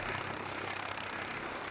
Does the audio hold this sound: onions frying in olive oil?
no